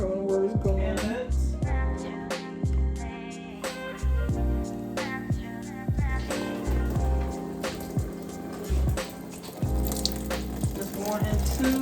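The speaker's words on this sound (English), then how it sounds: "the water hose is connected to the water faucet. It's going down into the machine." Water runs steadily from a kitchen faucet through a hose into a portable mini washing machine, a continuous close splashing fill with clattering knocks and handling noises over it.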